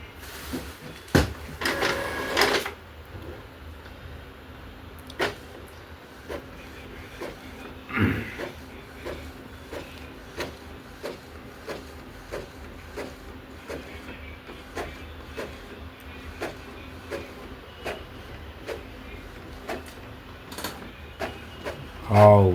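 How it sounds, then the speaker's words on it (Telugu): Printer running a page, with a steady mechanical hum broken by regular clicks and taps over about twenty seconds, fairly near, plus a few louder knocks and handling thumps. "ఒకసారి చూద్దాం మనకి ప్రింట్ అయితే ఎలా వస్తుందని చెక్ చేద్దాం"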